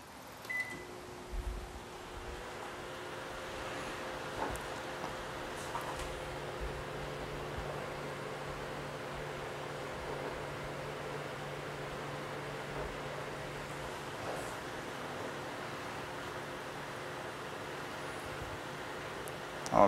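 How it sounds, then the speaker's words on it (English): A microwave oven powered by a Maxoak Bluetti portable power station runs with a steady electrical hum and drone that holds constant throughout, with no voices. "Let's plug in the microwave and let's hit it 1 minute."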